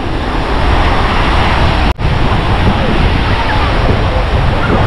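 Stormy sea waves roll onto the beach at Anapa in a loud, dense, continuous roar of surf close by, with a momentary dropout partway through.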